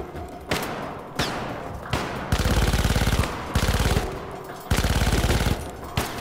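Gunfire in the video game Syndicate: several single loud shots followed by three sustained bursts of rapid automatic fire, close and dominant with no talk.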